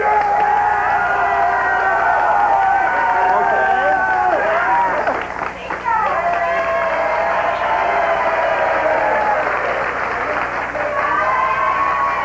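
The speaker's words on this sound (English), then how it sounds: "you will give your applause for the worst dressed" A studio audience on a 1990 daytime talk show applauds and cheers loudly and continuously, with whoops and crowd chatter mixed in beneath voices speaking over it.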